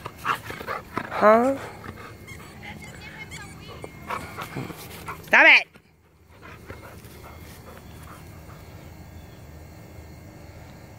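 A dog whimpering and yipping in short high bursts with quiet panting between, close by, while a person speaks over it.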